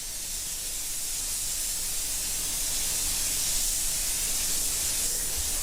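A paint spray gun lays light coats of custom paint, giving a steady, continuous airy hiss at even loudness throughout.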